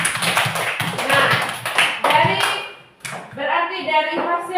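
A classroom of children clapping together, loud, rapid, uneven applause that briefly drops off and then resumes, with young voices mixed in.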